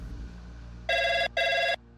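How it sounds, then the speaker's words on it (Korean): A telephone rings in two loud, steady electronic bursts with a short gap between them, at a Seoul police station in 2006, over a faint low hum. "전화 한 통이 걸려왔어."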